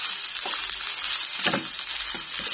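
Nasi goreng fried rice sizzles and crackles in a hot pan, a loud steady frying hiss with scraping bursts as it is stirred, with no talk.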